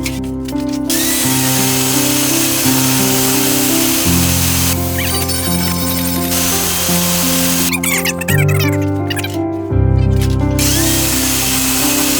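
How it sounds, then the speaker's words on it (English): A power grinder whines loudly and steadily against metal plates, stripping paint off them, its pitch shifting as the load changes and sharp scraping bursts joining in at times, close and continuous with no talk. "He's going to grind the paint off."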